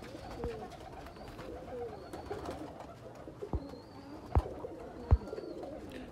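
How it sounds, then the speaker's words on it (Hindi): A Sialkoti/Kasoori breeder pigeon coos softly and repeatedly at close range, with a few sharp knocks and thumps nearby. "ये जनाब अंदर एक मिस्सा कबूतर है"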